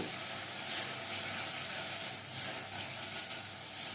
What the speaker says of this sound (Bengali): মশলাটা দিয়ে এবার ভালো করে একটু নেড়ে মিশিয়ে নেব।